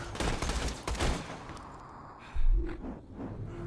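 Bursts of gunfire in Borderlands 2 rattle out as rapid, loud shots, thinning into scattered pops with one heavier thump partway through.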